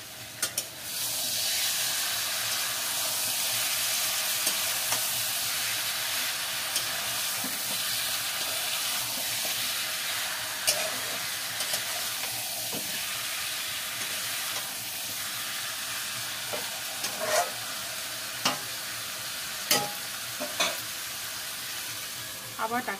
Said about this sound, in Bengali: অল্প আমি নেড়ে দেব